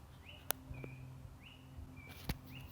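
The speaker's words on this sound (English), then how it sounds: "there's a bird and it's being really loud" A bird calls repeatedly outdoors with short, rising chirps at a steady rhythm, a few sharp clicks and a low hum running underneath.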